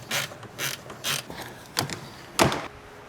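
Ratchet spinning off a 14 mm bolt from a car bracket, with quick bursts of clicking pawl strokes, about five close repeated runs with short gaps between them.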